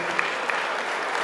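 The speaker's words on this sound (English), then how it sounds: "Big round of applause for Sammy and her dad" Wedding guests at The Park Chateau in East Brunswick, New Jersey applaud Sammy and her dad, a brief burst of dense, lively clapping from a roomful of people.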